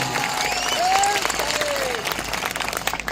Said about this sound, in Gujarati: આપણા સૌના લોકલાડીલા ધારાસભ્ય શ્રી એવા ચૈતરભાઈ વસાવાનું આપણે જોરદાર તાળીઓના ગણગણાટથી એમનું સ્વાગત કરી લઈએ